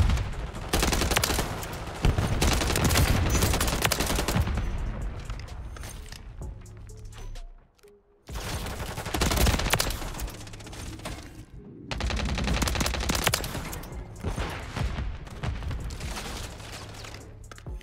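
Sustained bursts of automatic gunfire in the video game Call of Duty: Modern Warfare 3, loud and dense, with a brief lull midway before the shooting resumes.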